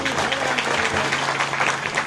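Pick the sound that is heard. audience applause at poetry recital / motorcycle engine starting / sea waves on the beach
audience applause at poetry recital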